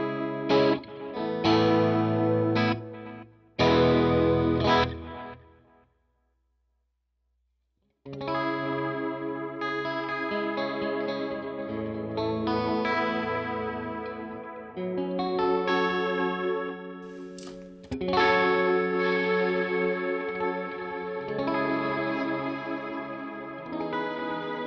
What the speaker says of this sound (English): I have this mapped to several different features on a delay pedal, and also this reverb right here